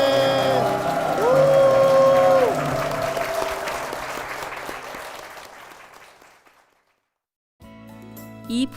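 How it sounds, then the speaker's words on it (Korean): A church congregation applauds after a hymn, a swell of clapping over fading music and choir that tapers off into near silence before a brief new burst of sound. "주님께 영광의 박수를 드리겠습니다"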